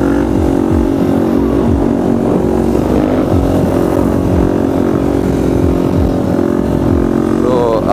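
A supermoto motorcycle fitted with a Rekluse clutch, ridden hard with a steady loud engine drone and repeated rising revs as it accelerates through the gears, recorded close from the bike.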